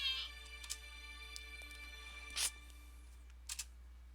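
Cat meowing in the visual novel The Fruit of Grisaia, a few short, fairly faint meows at intervals over a quiet, steady background hum.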